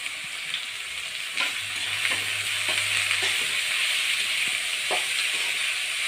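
Banana flower frying and being stirred in a pan, giving a constant bright hiss of sizzling oil with soft scraping stir strokes at intervals, close up and with no talking.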